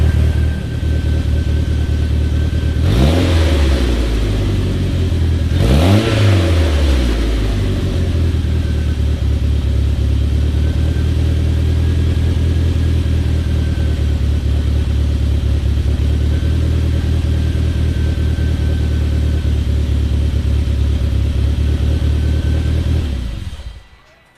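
An Eagle Talon engine idles loudly, revved twice in quick succession with rising and falling roars, then settles into a steady rumble before cutting off.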